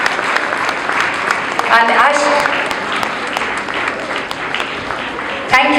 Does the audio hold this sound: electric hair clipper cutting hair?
no